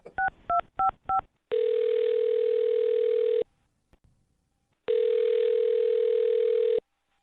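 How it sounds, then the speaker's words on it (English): A telephone dials a number with four quick touch-tone beeps, then two long ringback tones separated by a pause, loud and close with no talk. "I'm going to dial his phone number right now"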